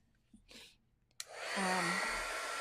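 A handheld heat tool blows steadily over wet watercolor paper, its whirring airflow starting after a few soft taps and a sharp click and then running loud and continuous.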